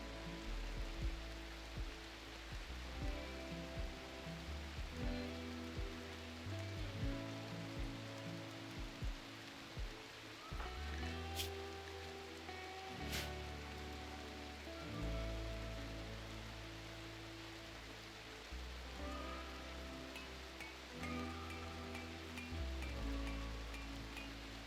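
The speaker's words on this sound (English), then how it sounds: "I love the sound of the rain in this game." Steady rain from the video game RimWorld, a dense, even hiss of drops on surfaces that runs throughout at low level, alone with no talking.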